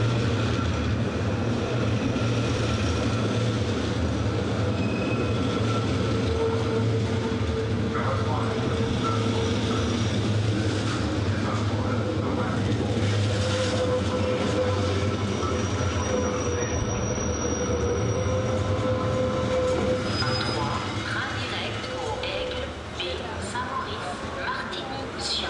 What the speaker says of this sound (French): on se situe ici à la gare de Montreux